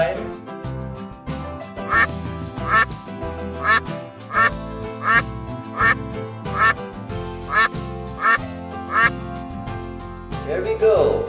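Repeated duck quacks sound at a steady beat over background music, about ten calls spaced roughly a second apart, fairly loud and close.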